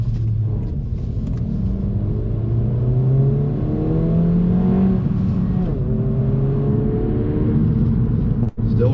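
A 2024 Honda Civic Si pulls away from a stop, its engine note rising through the revs, then dropping at a gear change before climbing again, loud and close from inside the cabin.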